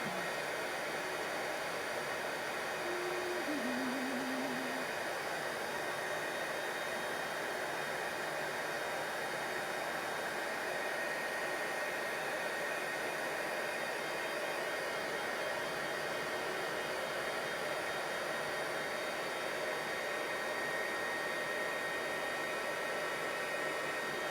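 A heat tool blowing hot air to melt embossing powder in a craft demonstration, a steady, loud whooshing hiss that runs unbroken from start to finish.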